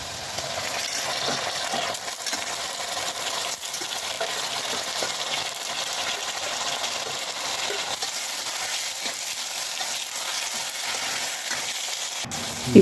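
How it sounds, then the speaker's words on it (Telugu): Spices, chopped onion and green chilies sizzle steadily in hot oil for a mutton and potato curry, a dense continuous fry with occasional faint stirring clicks and no talking. "మసాలా దినుసులు, ఉల్లిగడ్డ ముక్కలు, పచ్చిమిర్చి ముక్కలు వేసి వేపాలి"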